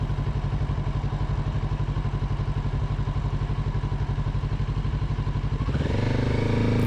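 Kawasaki Z650RS motorcycle, a 2024 model, accelerating hard off the line from a stoplight: a loud, steady engine drone with rapid pulsing that swells and climbs sharply near the end as the revs rise.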